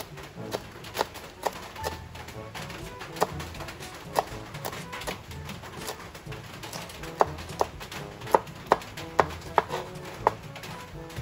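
Knife chopping onion into small pieces on a board in a home kitchen, a steady run of sharp, close cuts with some quicker bursts, with faint background noise and no talk.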